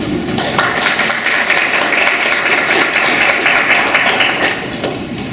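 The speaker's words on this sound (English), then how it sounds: "So please give yourselves a round of applause." A crowd at a community dialogue on race applauds steadily, a dense wash of clapping that stays loud throughout and tapers slightly at the end.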